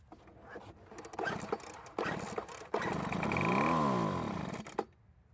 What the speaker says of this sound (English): Let's put some gas into the carburetor throat and try starting it.